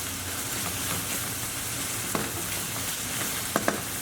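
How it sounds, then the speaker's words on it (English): Paprika, cumin, chilli and crushed garlic are mixed in a frying pan for a Mexican tortilla stack, giving a continuous loud sizzle with a few brief utensil taps near the end. "2 crushed garlic cloves, and we'll just mix that all together."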